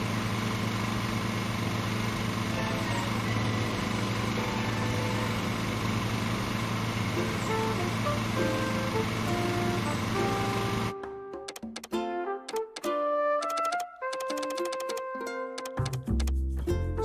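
Lawn mower engine in the Lawn Mowing Simulator video game drones steadily for about eleven seconds, then gives way to scattered game sounds, with no talk.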